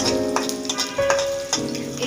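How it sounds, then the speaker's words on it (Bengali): Garlic cloves frying in hot oil alongside dried red chillies and cumin for beef haleem, giving a steady close sizzle with small crackles throughout, no voices. "রসুনের কোয়া লাল লাল করে ভেজে নিব"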